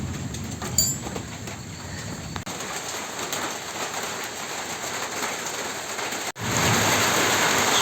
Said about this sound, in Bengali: এই যে রাত্রে এখন বৃষ্টি হইতেছে